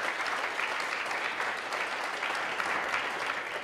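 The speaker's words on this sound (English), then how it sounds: "give Tim another round of applause for all the work he's done" Steady audience applause fills a campus business club event at the Canyon Challenge 2019, many hands clapping in a dense, even wash from start to finish with no voices.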